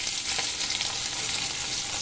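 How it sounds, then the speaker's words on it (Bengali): Bitter gourd slices frying in hot oil in a wok, a steady dense sizzle with crackling spits, close and continuous without any voices. "সেইগুলো আমি তেলের মধ্যে ভাজবো"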